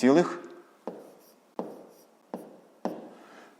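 Numbers being written by hand during a fifth-grade maths lesson, a quiet series of four sharp pen taps and strokes at even intervals, with a voice speaking at the start.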